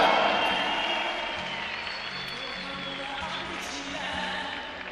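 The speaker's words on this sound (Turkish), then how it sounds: "bizim bu bayramın şerefine bir gür alkış gelsin" A crowd at a gymnastics World Cup in Baku claps in sustained applause, loud at first and then settling into a steady patter.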